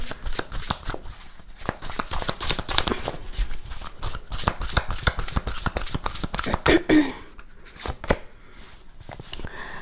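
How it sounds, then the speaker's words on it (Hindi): Tarot cards being shuffled by hand in quick, crisp riffling bursts, close and loud, a rapid run of slaps and flutters that tapers off near the end. "अब जो भी कार्ड्स मैंने निकाले उसके लिए और एक क्लैरिफायर निकालूंगी"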